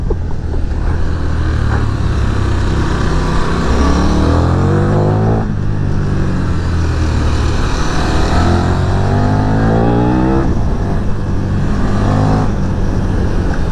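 KTM Super Duke 1390 R motorcycle accelerating hard through the gears, engine note rising in repeated sweeps with brief drops at shifts, loud and close amid constant wind rush, no talking.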